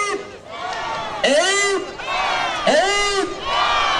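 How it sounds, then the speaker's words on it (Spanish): A crowd at a neighborhood carnival contest cheers and shouts in loud repeated swells, voices whooping together over scattered clapping, with a nearby voice between bursts. "muchos aplausos para Cuna de Emprendedores"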